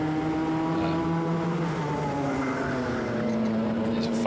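Club100 Sprint 60 racing kart engines at Whilton Mill during a sprint race, a loud sustained droning whine with steady harmonics that shift slightly in pitch as a faster kart comes past.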